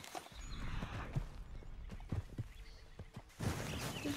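Wild horses in the open world of Red Dead Redemption 2 clatter past with scattered hoof clops and a faint neigh, soft and somewhat distant over ambient wind.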